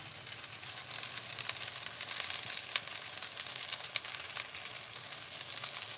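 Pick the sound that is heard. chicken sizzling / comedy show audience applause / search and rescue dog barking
chicken sizzling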